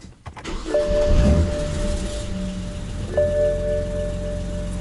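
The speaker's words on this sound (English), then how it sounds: "Let's start the car, see what happens." A BMW 135i with the N54 engine and a six-speed sits as its electronic chimes ding twice, then the engine cranks and settles into a loud, steady idle rumble close by.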